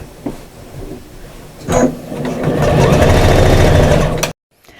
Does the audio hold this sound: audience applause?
no